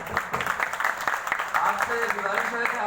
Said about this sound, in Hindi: बड़ी भरपूर तारीफ होनी चाहिए और तालियां बजाओ यार